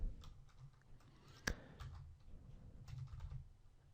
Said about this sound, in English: So I'm going to type